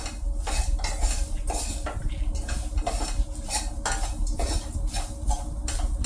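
Goan mushroom masala preparation: grated coconut with chilies being dry-roasted and stirred in a pan, giving steady scraping and clinking of a utensil against the pan with faint sizzling, close and continuous, no voices.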